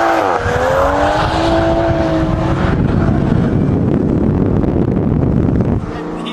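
A Toyota Supra slides with a sustained, loud engine roar and rough tire noise and wind buffeting running steadily for several seconds before dropping off near the end.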